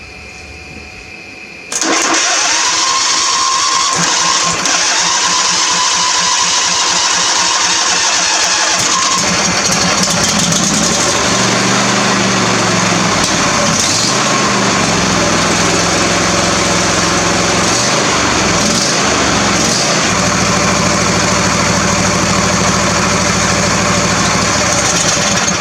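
A John Deere small engine, freshly fitted with a rebuilt carburetor, cranks and catches after a brief quiet start, then runs loud and steady at close range, its idle dipping and surging a few times with no talk.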